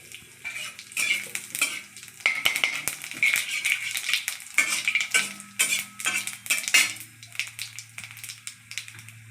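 Cumin seeds and a dried chili frying in mustard oil, sizzling close up under repeated sharp metallic clinks and scrapes of a utensil stirring in the pan, with a low hum underneath.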